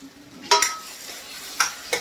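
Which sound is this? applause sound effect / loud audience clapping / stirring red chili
stirring red chili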